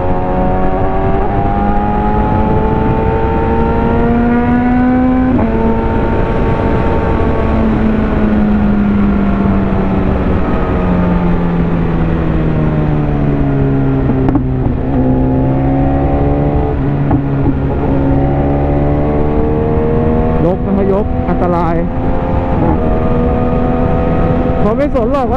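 BMW S1000RR superbike engine while riding, a loud, steady high-revving wail with gear-change dips and rising pitch sweeps, close and continuous throughout.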